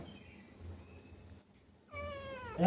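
A cat meows twice at close range, a short cry followed by a longer rising meow, with a quiet indoor room around it.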